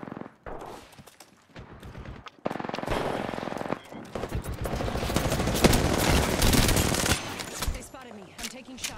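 Video-game automatic gunfire from a ranked squad battle royale match rattles in long, dense bursts, loud and close, building into sustained fire over a few seconds.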